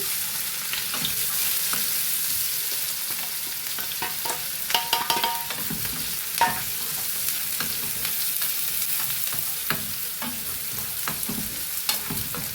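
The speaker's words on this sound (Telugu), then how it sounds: "చూడండి ఆవాలు బాగా చెట్టని ఉంటున్నాయి." Mustard seeds fry and splutter in hot oil with a dense, continuous sizzle, scattered sharp pops and occasional stirring scrapes, close and loud with no talk.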